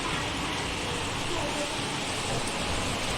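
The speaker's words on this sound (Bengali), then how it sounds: "বৃষ্টি পড়ছে, চলো লাইটটা জ্বালে। মুসুলধারা বৃষ্টি" A torrential downpour on Janmashtami night makes a dense, steady hiss of heavy rain that fills the whole stretch without a break.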